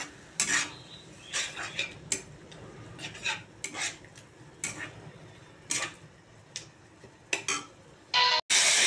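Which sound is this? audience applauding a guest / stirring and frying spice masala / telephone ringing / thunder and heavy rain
stirring and frying spice masala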